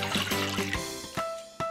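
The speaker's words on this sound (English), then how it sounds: "Put that cup and a half of warm water into a medium bowl" Warm water, about a cup and a half, is poured into a medium bowl for no-knead bread dough, a short trickling pour with a few close splashy gurgles and no talking.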